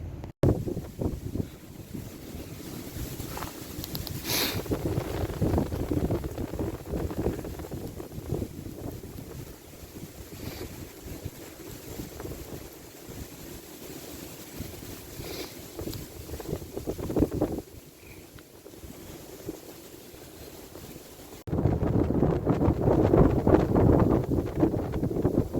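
Strong Nord-Ost wind, icy and cold, roars steadily on the Markhotsky ridge during a climb into the wind, gusting louder near the end with no talk.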